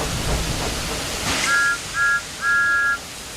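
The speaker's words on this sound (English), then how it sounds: "Thomas likes whistling cheekily at him." Thomas the Tank Engine, a cartoon steam locomotive, gives three short cheeky whistle toots, the last one longest, loud and near over a hiss of steam.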